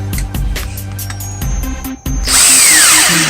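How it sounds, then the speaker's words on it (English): A cordless power drill whirs loudly into wood after some clattering handling and tapping, its motor pitch rising and falling as it bites in. "Drill in and make sure you don't have a dead battery"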